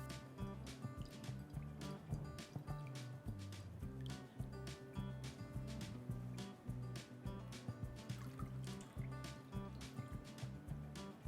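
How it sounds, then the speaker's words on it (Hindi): Water draining off soaked moong dal and rice in a home kitchen, heard as a steady wet trickle and splashing with small drips and squishy movement of the grains, close and continuous, with no one speaking. "इसमें से इसका पानी निकाल लेते हैं।"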